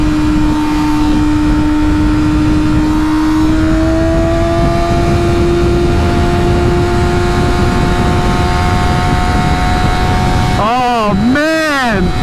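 A 2019 Kawasaki ZX-6R motorcycle with a Yoshimura Alpha-T exhaust holds a loud, close, high-pitched engine drone that slowly climbs in pitch. Two quick rev blips rise and fall near the end.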